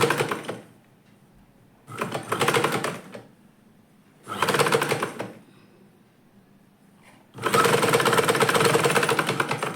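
A sewing machine stitches a salwar top in four bursts, three short runs and a longer final one, its fast rattling hum broken by pauses of near silence.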